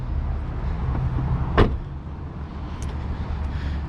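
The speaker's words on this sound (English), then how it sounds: "Get the trunk opened up for you." The trunk of a 2022 Volkswagen Taos 1.5T SE 4MOTION mid-size SUV is opened: a single sharp latch click over a steady low hum, with a faint mechanical tick shortly after.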